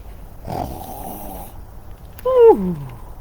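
A child imitates a bear's snore with a low, rough, drawn-out rumble, then follows with a falling, hooting vocal sound; both are close and moderately loud over a quiet background.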